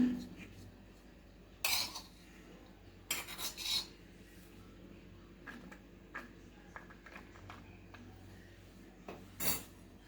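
A spoon mixes chopped tomatoes and onion with salt in a bowl, giving a few sparse, quiet clinks and scrapes against a low, steady background.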